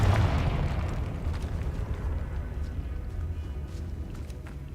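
A Confringo fire spell in Hogwarts Legacy erupts as a loud burst, and a rumbling explosive roar trails off gradually over several seconds with no talk.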